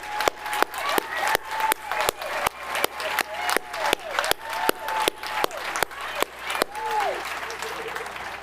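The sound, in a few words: audience applauding armed forces members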